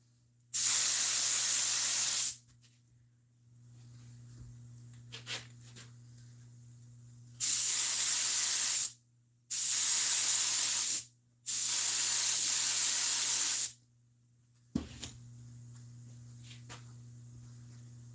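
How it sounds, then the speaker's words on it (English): Four bursts of hissing aerosol glue spray onto vehicle seat foam, each lasting one to two seconds, separated by quiet pauses with faint handling noises. "I'm going to take and spray some glue in there"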